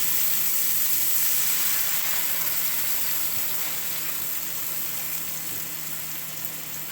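Milk poured into a pan of frying egg bhurji gives a steady, bright sizzle that slowly softens as the liquid settles, with no talking.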